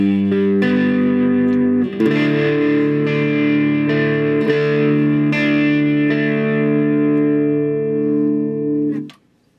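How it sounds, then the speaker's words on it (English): An electric guitar run through effects arpeggiates chords, with sustained, shimmering notes ringing over each other for about nine seconds, loud and close, ending in a quick fade. "I arpeggiate the chords so that it sounds like this."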